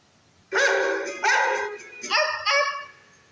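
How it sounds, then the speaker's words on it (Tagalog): A dog barks in a rapid series of four or five loud, close yips and bow-wows, clear and alone, with no talk over it. "Aso po!"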